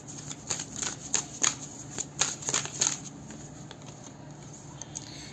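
A deck of tarot cards is shuffled by hand, making a run of quick crisp riffles and flicks up close for about three seconds before fading into quiet handling, with nobody speaking.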